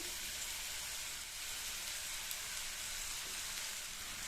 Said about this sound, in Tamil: இந்த வெண்டைக்காயை மீடியம் ஃப்ளேமில் வச்சு நல்லா வதக்கிக்கணும்.